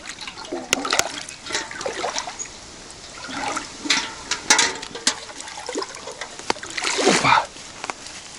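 Water scooped into a bucket from a leafy stream beside a taiga hut, with irregular splashes and trickles coming in bursts, close and fairly loud, while a man breathes and mutters nearby.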